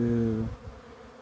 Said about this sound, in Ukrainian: бджоли літають